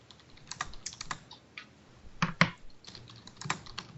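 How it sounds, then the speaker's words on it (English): Someone types on a computer keyboard during a tabletop role-playing session, producing quick, irregular clicks up close with small clusters of louder key strikes and no talking. "I'm typing."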